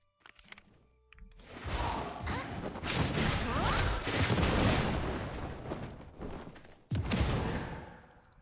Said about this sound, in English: it does have the Spirit Charm effect that explodes that deals additional